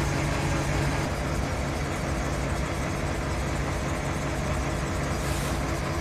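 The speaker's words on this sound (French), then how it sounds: "Donc là, le moteur est au ralenti." A New Holland CX8080 Elevation combine harvester on tracks sits with its engine idling, a steady low, broadband rumble and hum that holds evenly throughout, close by and fairly loud, with no talk.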